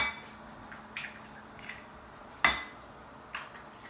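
Two eggs cracked into a large measuring cup during biscuit baking, heard as several separate sharp clicks and taps at close range, the loudest about midway, with a quiet room behind.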